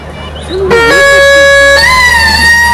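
A sipsi reed pipe or whistle plays at a yaren night gathering in Fethiye, giving loud, sustained reedy tones rich in overtones, with a sharp rise in pitch partway through and a steady hum underneath.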